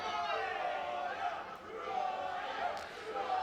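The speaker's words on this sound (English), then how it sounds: "the crowd are rightfully having a go at the champion" A crowd at a live wrestling match shouts and jeers at the champion, with raised voices and calls blending into a steady wash of noise. Distant and fairly faint.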